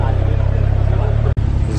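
A Ford GT sports car at an exotic car show in Raleigh, North Carolina gives a loud, steady low engine rumble close by, with a brief dropout near the end and crowd chatter mixed in.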